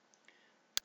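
A single sharp computer mouse click lands near the end, preceded by a couple of faint tiny ticks in an otherwise quiet room.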